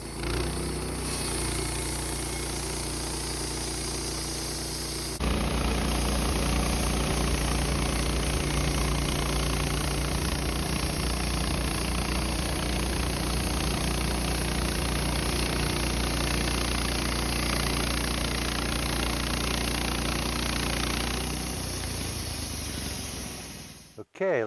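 A Woodmizer LT15 sawmill cuts through a pine log with big knots. The engine drones at a steady idle, then about five seconds in it drops into a heavier, louder sustained cutting roar that runs for roughly sixteen seconds before winding down.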